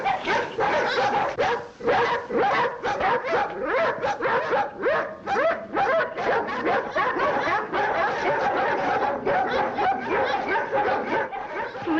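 Dogs barking in rapid, overlapping bursts, loud and close, a continuous volley of sharp barks and yips with no pause.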